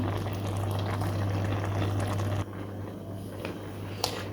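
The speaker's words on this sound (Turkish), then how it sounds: "Şimdi sütü üstüne aktaracağım." Milk being poured over cooked rice that has absorbed its water, making a steady liquid pouring and bubbling wash that stops abruptly partway through, then a quieter background with a small clink near the end.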